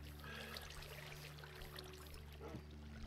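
Molten glass pours into a tinker's furnace in the Minecraft SevTech Ages modpack, a steady trickling stream of game sound over a constant low hum lasting a few seconds, with no talking.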